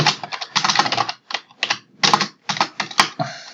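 Rapid clattering keystrokes on a computer keyboard in irregular bursts with short pauses between, close and crisp with no talking.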